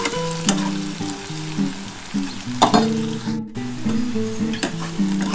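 Ivy gourd (kundri) frying in a pan for a poppy-seed bhaja, a steady close sizzle running throughout with a tonal, music-like layer underneath and a brief dropout near the middle.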